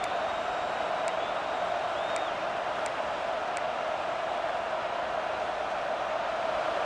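Stadium crowd noise in a college football video game, a steady, distant wash of murmuring fans with a few faint whistles and tones above it, no clear cheering surge.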